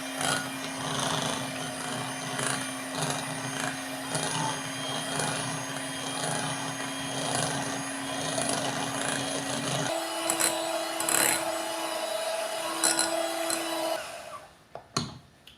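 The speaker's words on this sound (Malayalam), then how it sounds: "നമുക്ക് നമ്മുടെ ക്രീം നന്നായിട്ടൊന്ന് ബീറ്റ് ചെയ്തെടുക്കാം." An electric mixer beats whipping cream for a no-oven red velvet cake, a steady motor whir running for about ten seconds, shifting to a slightly different pitch, then stopping near the end.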